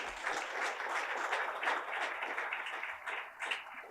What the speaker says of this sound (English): Let's give a big round of applause to Mr. Anirudh Narayan.